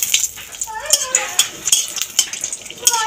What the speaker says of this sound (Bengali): শুকনো লঙ্কা ভেজে নেব।